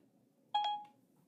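A short electronic chime from a Pebble smartwatch as its launch-Siri button is pressed, a single bright tonal beep lasting under half a second against quiet background.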